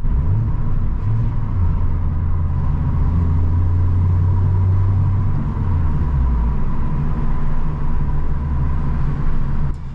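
A loud, deep exhaust on an Opel Corsa E drones and rumbles up close, its pitch rising and falling as the revs change during rev-matched downshifts.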